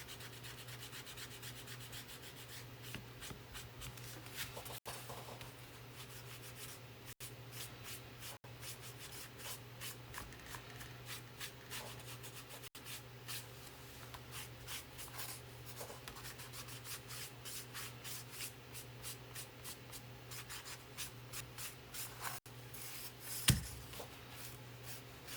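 Finish rubbed into a wooden fence peeker by hand, a continuous close rasping, brushing friction with a faint steady hum underneath and a sharper scuff near the end.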